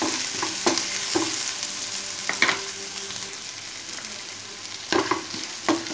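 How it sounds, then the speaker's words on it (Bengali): Chopped onion fries in refined oil in a pan, a steady sizzle broken by intermittent scrapes and knocks of stirring, close and moderately loud with no talking. "ওয়ান মিনিটের মতো পেঁয়াজ কুচিটা আমি একটু ফ্রাই করে নেব।"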